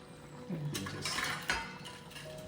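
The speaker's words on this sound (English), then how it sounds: "close the lid" A lid is set down on a pot of winter-melon soup with a couple of quiet metallic clanks and a brief rattle, faint against the soft bubbling of the pot.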